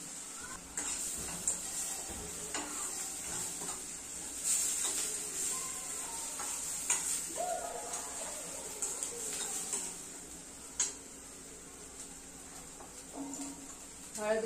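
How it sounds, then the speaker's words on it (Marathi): Onion with garlic paste sautéing in a pan, a soft steady sizzle with occasional stirring clinks and taps of a utensil, quiet and close, under a voice talking over the cooking. "कांदा छान मऊसूर होईपर्यंत परतायचे आपल्याला"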